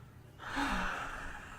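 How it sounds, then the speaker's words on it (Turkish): A single deep, audible breath is drawn in and let out during a medical examination, quiet and close. "Derin derin nefes alınız."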